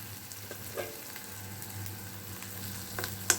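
Spices tempering in hot oil for instant idli batter, a soft, steady close sizzle with faint scattered pops and crackles, and no voices.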